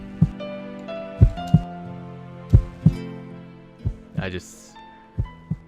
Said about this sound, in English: apparently my heartbeat is coming through the speakers